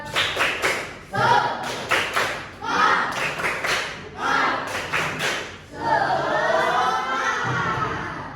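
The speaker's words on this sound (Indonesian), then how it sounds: "Tepuk semangat." Rhythmic group clapping in a classroom, a patterned spirit clap of repeated bursts of claps, fairly loud and close, ending in a longer wash of clapping and cheering from children.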